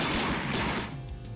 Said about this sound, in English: The MK19 fires grenades at a rate of 350 shots per minute.